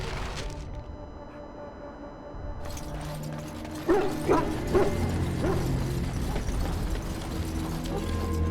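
Several sharp hound barks from Dragon Age: Origins in the Korcari Wilds, a short burst of four or five yaps mid-clip over a busy ambient game soundscape with low hum and clatter, moderately loud.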